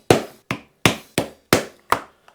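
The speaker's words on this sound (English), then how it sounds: "I'm just going to give them a bit of a tap, which will mark a center point for me" Six sharp metal-on-metal hammer taps on a transfer punch, marking center points through a guitar neck pocket and pickguard template, close and evenly spaced, each ringing briefly before fading, with a faint seventh tick at the end.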